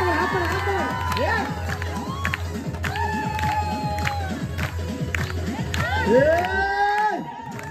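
A lively audience at an annual community gathering's Home Minister event cheers and claps steadily, with shouts and whoops rising over a loud, continuous din that fades near the end.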